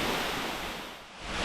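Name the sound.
waterfall, Madakaripura in Java, Indonesia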